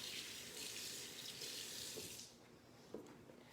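A sink tap runs water over a vegetable being rinsed, a steady close hiss of flow for about two seconds, then the stream cuts off and a few soft clunks and drips follow in a quieter kitchen.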